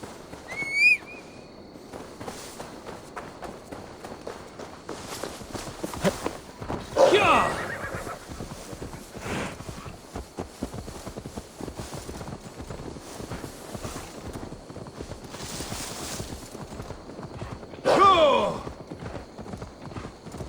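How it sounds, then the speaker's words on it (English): Continuous clip-clop of horse hooves at a steady trot in the video game Assassin's Creed Valhalla, with a couple of brief whinnies, under a speaking voice. "Now to deliver Magni his horse."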